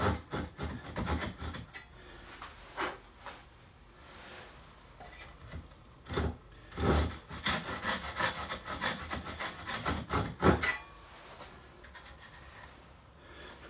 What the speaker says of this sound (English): line up our saw, and just gently, don't go crazy here, it's only 1/8 of an inch